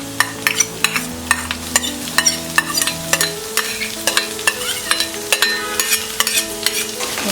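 Onions stirred and fried in a pan for paneer bhurji: a steady sizzle under repeated sharp scrapes and knocks of a spatula against the pan, close and rhythmic, with no talking.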